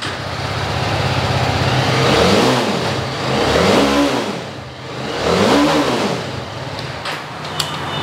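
An RR 310 motorcycle engine revs three times in succession, each throttle blip rising and falling in pitch, loud and close with the engine idling between revs; no one speaks.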